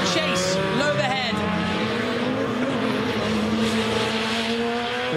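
A rallycross race car driven by Vettel in the Race of Champions final powers out of turn 2, its engine note rising loud and near with tyre squeal, under excited commentary.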